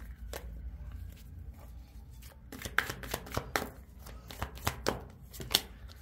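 A tarot card deck being shuffled, with a soft, steady riffle at first that grows into a run of sharper, louder card slaps and snaps toward the end, heard alone without talk.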